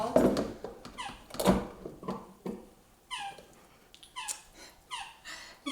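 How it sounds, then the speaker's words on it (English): Dog named Flossie playing with a squeaky toy in a home kitchen, sharp rubbery squeaks in irregular bursts mixed with snuffling breaths, fairly quiet and close. "If you're hearing that squeak, our dog is enjoying some playtime right now."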